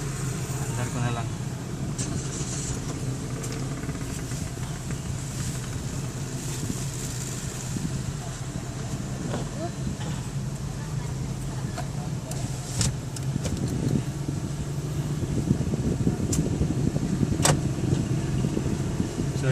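A car engine hums steadily in the background as the vehicle pulls away from a Petron fuel station, a low continuous drone with occasional light clicks and rattles and faint ambient noise around it.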